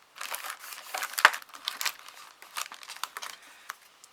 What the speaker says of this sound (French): On va mettre une petite bande de washi, ça fait Pâques.